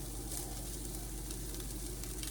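Chopped green onions sizzle in a pan on top of cooked ground turkey: a soft, steady, even frying hiss with no talking.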